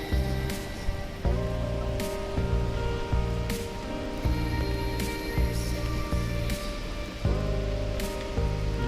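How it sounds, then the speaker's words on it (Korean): Steady rain pattering on a surface, a continuous hiss with scattered drops and no voices. "오, 비가 오고 있어요."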